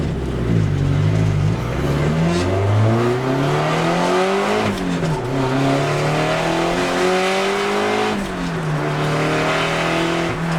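A loud Nissan 180SX sports car exhaust revs repeatedly up and down, rising to a roar and dropping back, close by, with no talking.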